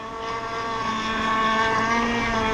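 Zippkits SLR Thunderboat RC boat running on water, its motor giving a steady, continuous high-pitched whine with a slight rise in pitch, fairly close and alone.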